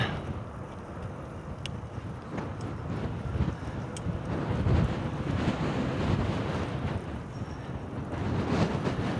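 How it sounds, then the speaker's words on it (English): Steady roaring wind buffets a helmet on an e-bike ride in low-50s weather, a loud, constant rumble throughout with a few faint clicks, and no voices. "you really don't have any protection for wind up on your helmet"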